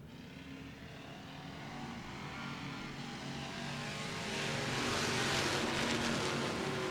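Race cars roar down the backstretch of North Florida Speedway, a continuous distant engine drone that slowly builds louder as the pack approaches.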